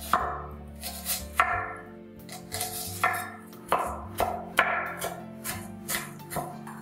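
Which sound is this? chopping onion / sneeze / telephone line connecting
chopping onion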